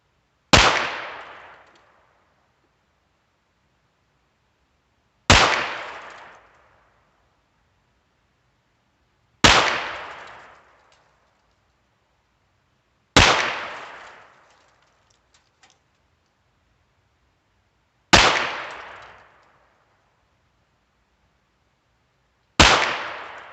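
Six sharp gunshots from a Ruger Wrangler birdshead revolver firing Aguila Super Extra ammunition, evenly spaced about four to five seconds apart, each a loud close crack with a short decaying tail, no talking in between.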